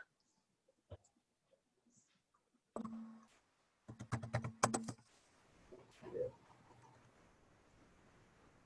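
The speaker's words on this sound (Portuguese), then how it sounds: "Como o barulho do teclado falando alto desse jeito é mais fácil ela falar" Bursts of keyboard typing, quick clustered clicks with short pauses, after a stretch of near silence with a few isolated taps.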